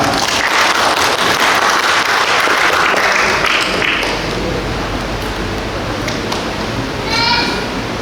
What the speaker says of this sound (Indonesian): Sekali lagi tepuk tangan untuk kemuliaan Tuhan.